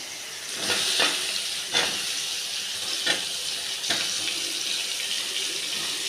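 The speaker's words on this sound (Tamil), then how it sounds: "அடுத்ததாக கட் பண்ணி வச்சுருக்கிற உருளைக்கிழங்கை நம்ம எடுத்து போட்டுக்கலாம்" Cut potatoes tipped into a hot pan for potato kurma, setting off a loud, steady sizzle with a few stirring bursts and scrapes, close and continuous without speech.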